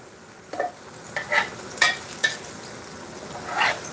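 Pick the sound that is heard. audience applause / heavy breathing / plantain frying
plantain frying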